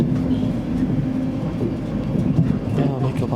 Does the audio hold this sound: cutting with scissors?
no